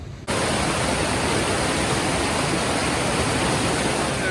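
A steady, full rush of Thunder River falling as a small waterfall into Tapeats Creek in the Grand Canyon, constant and close, with no other sounds standing out.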